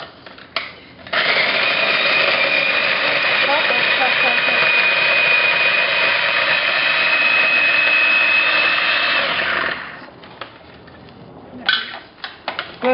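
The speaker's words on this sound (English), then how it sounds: "I put all of my garlic in the chopper." Electric chopper whirring through garlic and remaining onion, a loud steady motor drone lasting about nine seconds close by, then cutting off to quieter handling clicks.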